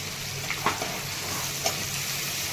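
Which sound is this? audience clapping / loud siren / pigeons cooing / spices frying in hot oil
spices frying in hot oil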